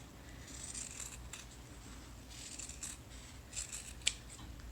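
Scissors snip through fabric for a bunny-ear quilt block, tracing around freezer paper in a run of soft, close crisp cuts with brief pauses, alone without talk.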